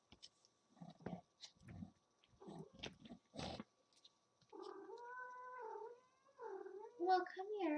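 A cat produces soft, close meows and drawn-out vocal calls near a litter of kittens, with low purring in the background and quieter murmuring between the calls.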